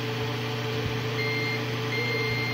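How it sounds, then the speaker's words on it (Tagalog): A steady electronic buzzer tone from a TCL 50-inch TV main board under repair drones continuously over a low hum, without pauses. "Test natin buzzer test."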